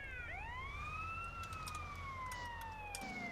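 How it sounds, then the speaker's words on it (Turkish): Ambulance siren in GTA San Andreas, a single wailing tone sweeping up and holding, loud and continuous over low traffic rumble, with no talk. "Bakın ambulans da geldi."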